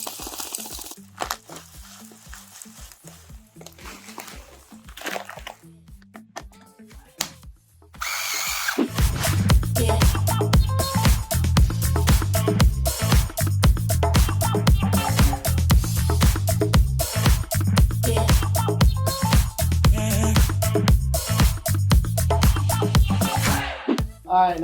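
A pink salt grinder grinds with a quiet crunching and rattling at first, then turns into a loud, continuous rapid gritty grinding that holds steady for most of the stretch.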